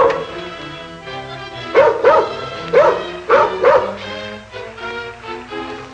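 A dog aboard a ship barks in a short run of sharp, loud yips and bow-wows, close and clear, with a fainter whimpering tone before and after.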